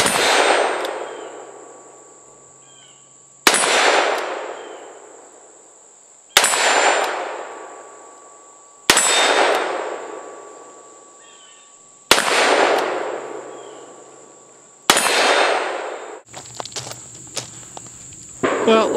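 Colt Python revolver firing .357 Magnum rounds outdoors, six loud sharp shots spaced a few seconds apart, each followed by a ringing decay, then clinking metallic handling sounds.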